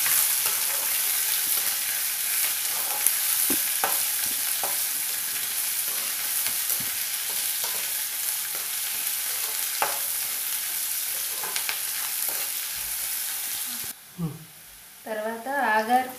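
Onions sizzle in a pan for an Andhra-style aagakarakaya curry, with a steady frying hiss broken by irregular clicks and scrapes of stirring. A brief voice and some handling noises follow once the sizzle cuts out at the end.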